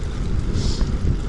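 Strong spring wind buffeting the microphone during a ride on an Outleap Hardway S 2022 bicycle, a steady loud low roar with gusty swells and no talk.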